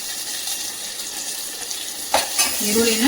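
Onions frying with asafoetida in a pan for a green gram curry hiss steadily up close, joined near the end by a couple of brief spoon clinks and scraping stirs.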